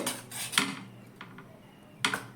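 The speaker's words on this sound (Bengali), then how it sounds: "এবার সব কিছু আবারও ভালো করে আমি মিশিয়ে নেব" Spoon scraping and clinking around a bowl while mixing batter with baking powder and a pinch of turmeric, a few sharp clatters separated by quieter stirring, close and alone.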